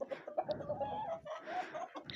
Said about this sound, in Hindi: मेरे बर्ड्स, मुर्गियां मैंने रखी हुई हैं